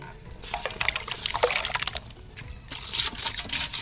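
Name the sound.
washing muddy potatoes in water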